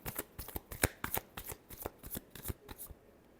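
Tarot cards are shuffled by hand in a quick series of soft riffling bursts, about a dozen crisp slaps close up, trailing off at the end.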